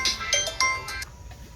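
A short electronic phone ringtone plays a quick series of bright melodic beeps, close and clear, then stops.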